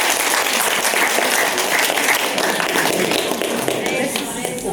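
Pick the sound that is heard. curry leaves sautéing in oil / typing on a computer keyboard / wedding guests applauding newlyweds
wedding guests applauding newlyweds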